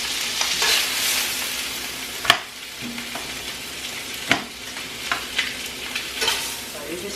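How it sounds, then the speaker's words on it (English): Food sears in oil in a pan, giving a continuous close sizzle punctuated by a few sharp utensil clicks and scrapes as pieces are turned, with no talking. "So you just sear both sides. And then you can add a little bit more oil for the next batch."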